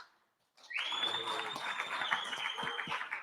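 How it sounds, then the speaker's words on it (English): An audience in a room breaks into applause with a long, sharp whistle over the clapping, starting suddenly after a brief silence and staying steady and moderately loud. "Round of applause."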